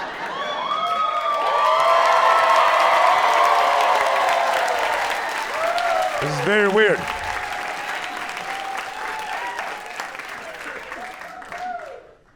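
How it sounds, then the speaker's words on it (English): Comedy special audience clapping and cheering loudly in a dense, sustained burst that gradually thins and fades, with someone talking over the tail end. "Why would y'all start clapping?"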